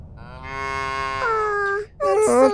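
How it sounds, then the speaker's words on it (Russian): Cows in a field in the video game Little Misfortune moo in long, drawn-out calls, one fading into the next with a rising second moo, loud and close with no talk over them. "На поле целое стадо коров."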